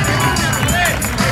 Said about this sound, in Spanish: ¡Fuerte aplauso, amigo, para Emanuel!